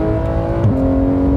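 A Porsche 911 GT3 with a PDK gearbox revs hard toward the top of its range, its flat engine a steady, dense, close howl that shifts pitch briefly midway before settling again.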